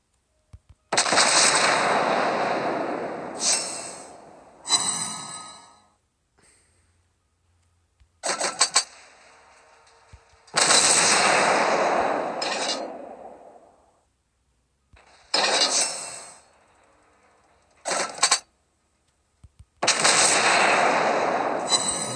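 Naval guns from the cruiser Yahagi fire in World of Warships Blitz, in loud bursts of booming gunfire lasting a second or two each, separated by silent gaps, with about six salvos in all.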